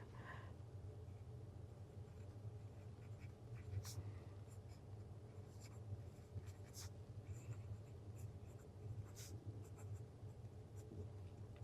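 Medium-nib Benu Pixie fountain pen writing on paper, a soft continuous scratch with short strokes and taps, quiet and close over a steady low background hum.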